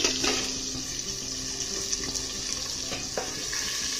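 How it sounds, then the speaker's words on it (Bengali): Large fish heads frying in a pan, partly covered, give a steady close sizzle and hiss that runs unbroken, with a few small clinks from the pan. "এই পাশে আমি মাছের মাথাগুলো ভাজতে দিয়েছি।"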